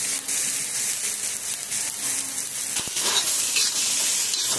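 Garlic cloves sizzle and fry in a pan with onion and coconut for a fish curry, a steady, bright crackling hiss close to the mic with the faint scrape of stirring and no talk.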